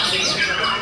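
White-rumped shama singing at an outdoor songbird contest, a brief, dense burst of bright, warbling high notes that is loud and close, with crowd noise in the background.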